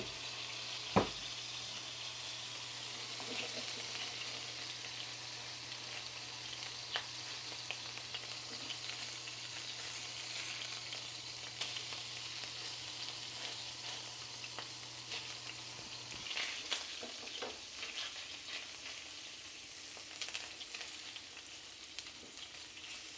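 Burgers fry in a worn frying pan that they stick to, giving a steady, even sizzle with faint stirring or scraping noises throughout.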